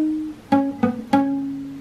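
A guitar plucks a short riff: a held note, then three picked notes in quick succession, each ringing briefly, clean and close.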